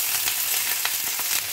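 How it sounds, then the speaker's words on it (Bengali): Black cumin (nigella) seeds sizzle in hot oil in a frying pan, a steady dense crackle with a few sharper pops, close and alone with no voices. "পাশে ফ্রাইং প্যান বসিয়ে দিয়েছি, এবার এর মধ্যে দিয়ে দেবো কালো জিরে ফোড়ন"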